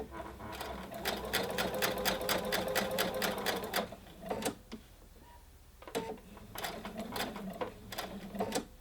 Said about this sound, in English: that allows me to turn the fabric and pivot so that I'm now able to sew along the next line